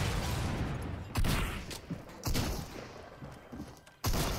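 Bursts of gunfire in the Fortnite video game, several loud overlapping shots and short volleys, with a couple of sharp reports standing out above a dense, noisy game background.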